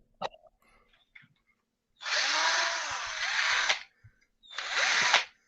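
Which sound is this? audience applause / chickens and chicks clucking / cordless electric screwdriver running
cordless electric screwdriver running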